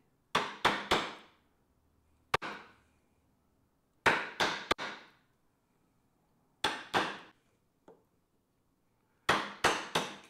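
A chisel is struck to carve wood for a Morris-style armchair, sounding as close, sharp mallet blows in quick bursts of two or three with quiet pauses between them.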